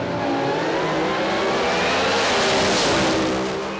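Pro Modified drag race cars, blower versus nitrous, roar down the strip at full throttle, a loud, steady, dense engine blast that swells toward the end with no talk.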